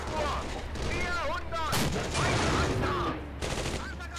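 A tank's main gun fires in the Steel Fury World War II combat game: a sharp, loud blast with a rolling boom that decays over a low rumbling engine bed, with a brief voice nearby.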